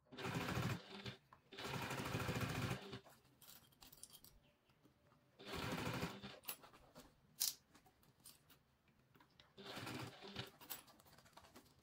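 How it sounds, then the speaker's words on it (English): A sewing machine stitches bias tape onto a bag gusset in three loud whirring bursts separated by quieter pauses, with a few faint clicks and handling noises between runs. "While sewing, make sure to align the bias tape with the gusset."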